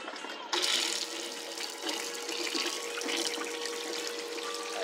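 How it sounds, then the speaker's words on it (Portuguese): Water running from a sink tap with an adapted switch on a boat, starting abruptly and then flowing in a steady, moderately loud stream with no talk. "E a água caindo aí, né?"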